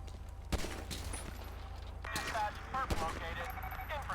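Gunfire in the video game GTA 5, several sharp shots cracking out amid game effects while a person talks over them.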